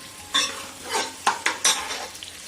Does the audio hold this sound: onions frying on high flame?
yes